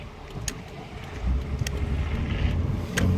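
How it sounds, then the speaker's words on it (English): Low rumbling wind buffets the microphone inside a moving 1999 Nissan Pathfinder, a steady roar that grows louder, with a few faint clicks. "It's gonna get windy in here, guys."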